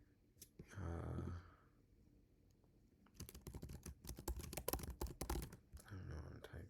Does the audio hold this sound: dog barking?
no